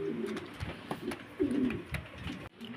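Pigeons held for sale coo close by in repeated low, throaty phrases, with faint rustling between calls and no voices.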